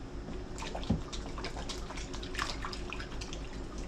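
Hands being washed under a running tap after handling beef, a faint steady stream of water with small splashes and drips, close and alone.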